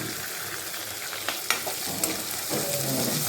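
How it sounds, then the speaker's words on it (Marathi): Onion frying in a pan for pithla, a steady close sizzle with a few clinks and stirring scrapes, fairly even in loudness throughout and no voices. "व्यवस्थित शिजून झालं की आपण कांदा टाकून घेऊया"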